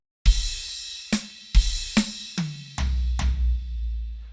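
A drum fill: one sharp snare hit, then a high tom strike dropping in pitch, ending on two deep, booming floor tom hits that ring out.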